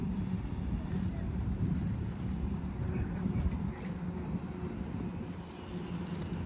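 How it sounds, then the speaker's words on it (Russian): Airplane flying overhead near a seaside restaurant in Batumi, a steady low broadband roar that holds throughout at a fairly constant level, with a few faint higher sounds scattered over it. "О, самолет, самолет."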